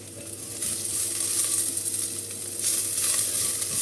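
Garlic and ginger fry in a hot pan, giving a loud, steady sizzle with bursts of crackle and occasional stirring, no voices over it.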